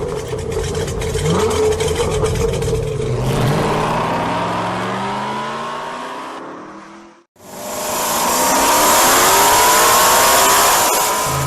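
Pro street outlaw drag cars on a main-street strip roar past at full throttle, engines rising in pitch as they accelerate and pass, then a brief gap before another loud run.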